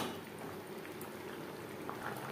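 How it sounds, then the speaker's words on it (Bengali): A pot of fish curry with gravy, made with snakehead fish and mankochu, bubbling and simmering steadily on the stove, a soft continuous hiss with small pops. "গ্রেভির সাথে মাছ আরও 4-5 মিনিট রান্না করব।"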